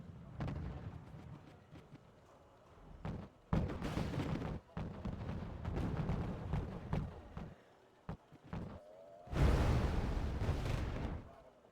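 Artillery fire in a World War II tank video game, with repeated heavy booms and bursts over continuous rumbling battle noise, growing louder and denser near the end.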